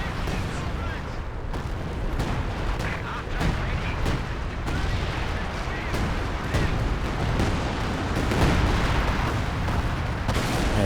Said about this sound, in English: We've got another zeroing artillery coming in.